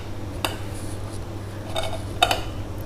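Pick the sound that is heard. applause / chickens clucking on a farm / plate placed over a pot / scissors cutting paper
plate placed over a pot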